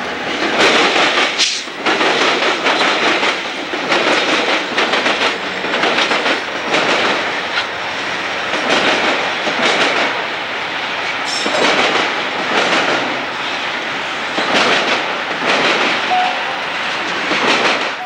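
A westbound freight train led by Cotton Belt and Southern Pacific locomotives rolls past up close, a loud continuous rumble with rhythmic clickety-clack of wheels over rail joints and occasional faint wheel squeal throughout.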